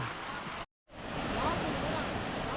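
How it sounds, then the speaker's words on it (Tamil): A waterfall at Valparai roars as a steady, broad rush of falling water, fairly faint and continuous, briefly cut out by a short gap of silence before resuming. "சவுண்டு கேட்குது, ஃபால்ஸ் சவுண்டு"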